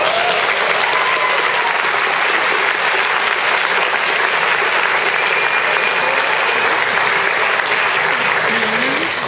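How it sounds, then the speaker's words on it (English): A room of people at a community association meeting applaud the board, a loud, dense burst of clapping that holds steady for around nine seconds. "I'd like a round of applause for them"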